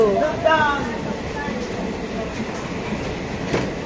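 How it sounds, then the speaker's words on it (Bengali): A local passenger train rumbles and clatters steadily through green forest in the rain, with people talking close by over the continuous rolling noise. "লোকাল ট্রেনে করে 20 টাকা ভাড়া দিয়ে"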